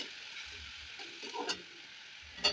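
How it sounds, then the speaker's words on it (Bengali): Large-onion paste sizzling in hot oil as it is stirred, a steady soft hiss with faint spoon scrapes and a sharper scrape near the end. "সেটা আমি তেলের উপরে দিয়ে ভালো করে নাড়াচাড়া করে নেব।"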